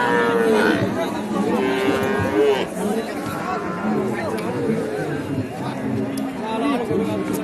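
Cattle low repeatedly at a busy traditional livestock market in Naogaon, loud nearby moos rising over a steady crowd chatter, with people talking throughout.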